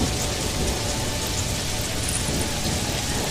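Heavy rain pours down in a steady, dense hiss of drops close by, unbroken and loud with no other sounds standing out.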